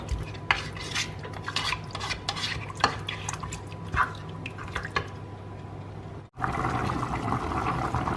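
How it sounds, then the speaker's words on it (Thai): Bubbling and popping of a Thai chicken curry soup (om gai) with vegetables at a boil in a pot, with scattered clinks of a utensil, close by and continuous. "ได้ยินไหมคะ มันเดือด ปุ๊บปุ๊บปุ๊บปุ๊บ"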